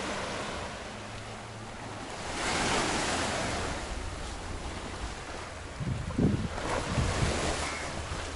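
Waves washing onto a sandy beach at Miami Bay, Penang, as the tide comes in, a continuous loud surf roar that swells and recedes, with wind buffeting the microphone.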